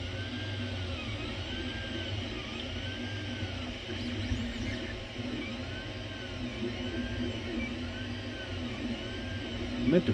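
An Ender 3 3D printer laying down a brim on a glass print bed whirs steadily, with stepper motors humming and repeated rising-falling whine sweeps as the head moves, plus small clicks near the end.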